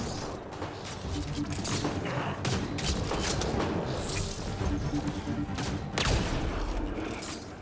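Dense, continuous weapon fire and mechanical clatter from a Mass Effect: Andromeda shuttle-extraction battle, with rapid overlapping shots and impacts throughout at a steady, moderate level.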